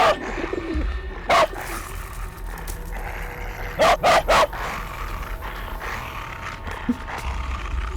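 A dog barks in short loud bursts, one single bark then a quick group of three, over steady outdoor ambience with birds cooing nearby.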